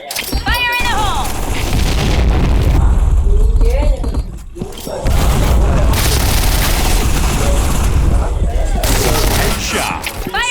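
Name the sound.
grenade explosion in a video game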